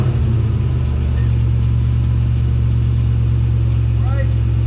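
An LS-swapped Jeep engine starts up and settles into a steady, loud low rumble that fills the clip, running continuously close by.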